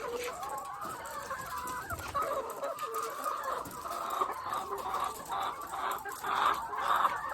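Several laying hens cluck and murmur nearby in a steady, overlapping chatter while being fed, with a few sharper calls rising toward the end.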